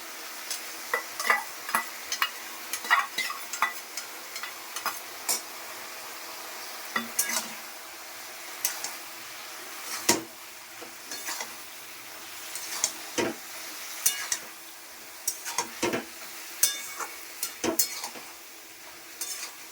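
Mustard paste and turmeric frying in a pan for a vegetable chorchori while a spoon stirs, clinking and scraping in frequent sharp strokes over a steady sizzle, close and fairly loud.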